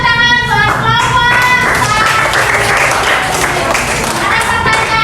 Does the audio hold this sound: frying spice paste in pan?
no